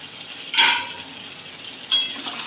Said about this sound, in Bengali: এবার আমি ঢাকনাটা তুলবো